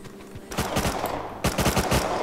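Bursts of MP5 submachine gun fire in the survival game Rust, a short volley followed after a brief gap by a second, louder rapid burst, close and punchy.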